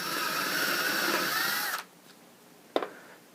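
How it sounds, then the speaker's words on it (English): A power drill bores straight down through a piece of scrap wood, a steady loud whine that cuts off abruptly, followed by a single sharp knock as the bit or workpiece is set down. "Drill this straight down through your first piece."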